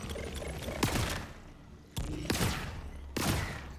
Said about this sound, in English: I need to try this sniper rifle out though.